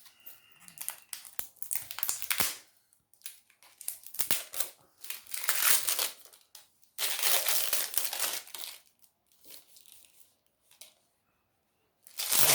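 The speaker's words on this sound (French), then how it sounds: "on va commencer par ouvrir la petite toile" Plastic packaging crinkles and tears in bursts as a small AliExpress canvas is unwrapped, close and fairly loud rustling separated by short quiet gaps, no voices.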